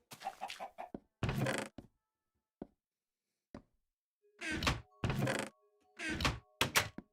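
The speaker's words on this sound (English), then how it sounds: "I put a chicken in her bedroom." Chicken clucks from Minecraft Pocket Edition come in short bursts: a couple of quick clucks, a long quiet stretch with faint clicks, then a tighter cluster of clucks near the end, close and clear.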